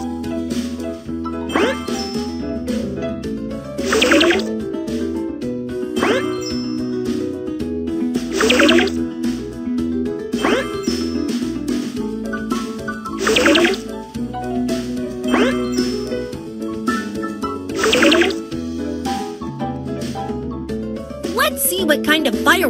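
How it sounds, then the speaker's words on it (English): Cartoon fuel poured into a fireworks machine, heard as bright tinkling, dripping and bubbling effects repeating in bursts over a continuous background music bed. "Pour the fuel into the fireworks machine."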